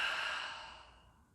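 A long, steady exhale closes a deep breathing exercise after the lungs are filled and held at the top. The breath is soft, close and airy, and it fades gradually over about a second with no talk over it.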